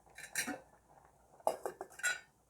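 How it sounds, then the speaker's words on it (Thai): Metal lid clanks and clatters onto a pot of Thai bamboo-shoot curry with yanang leaves and rattan shoots, a few sharp clinks and knocks in a kitchen. "ปิดฝา"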